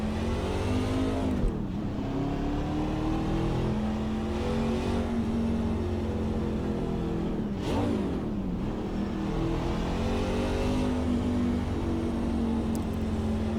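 A NASCAR truck engine in the iRacing video game at Chicagoland holds a loud, steady high-revving drone, with pitch dips and rises as the truck shifts and runs laps, alone without talk.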